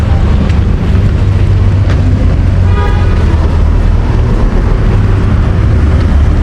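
Loud street traffic in Batumi with Russian cars passing, a continuous engine rumble with heavy wind buffeting the microphone and a brief horn toot partway through.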